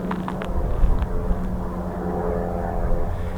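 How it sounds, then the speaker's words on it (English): Small private propeller planes drone overhead at a distance, a steady low engine hum that holds throughout with faint wind noise and no talk. "it's a couple of little private planes"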